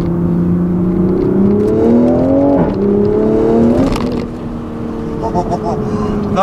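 Engine of a 2020 Toyota GR Supra pulling hard in second gear, a loud, rising rev with a quick dip around a shift before climbing again, then easing off as a voice speaks over it.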